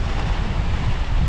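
During a typhoon at sea, strong wind roars into the microphone over the rush and churn of waves, a loud, dense and constant wash with no voices.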